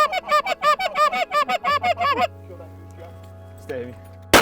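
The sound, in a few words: honking geese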